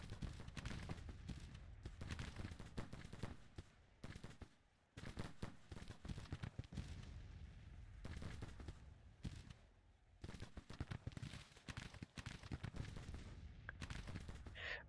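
Gunfire from a Civil War battle in the strategy game Grand Tactician: dense, continuous crackling volleys of musketry with distant booms, rolling on for the whole stretch with only short lulls, no voices.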